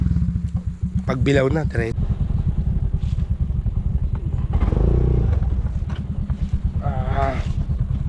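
A motorcycle engine in Sariaya, Quezon runs close by with a steady, low pulsing rumble that swells briefly midway as if revved, while people talk over it throughout.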